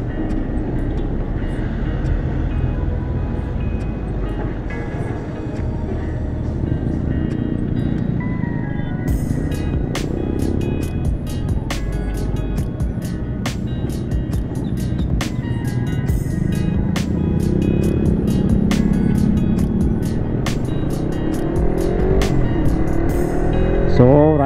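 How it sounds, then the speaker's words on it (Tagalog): Several large vehicles pass along a road while a Raider 150 FI motorcycle rides, with a continuous loud engine and road roar, swelling rumbles and frequent clicks and rattles. "Daming malaking sasakyan dito."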